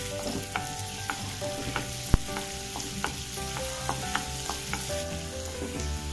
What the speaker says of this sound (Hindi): अब हम पिज्जा सॉस के लिए 1 टेबल स्पून तेल डालेंगे। देखिए अब हम इसमें लहसुन डाल दे रहे हैं